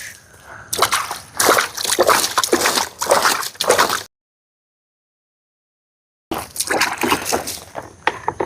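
Water splashing and sloshing from a bucket while watering plants in a garden bed, loud and close in repeated pours, with a silent gap partway through.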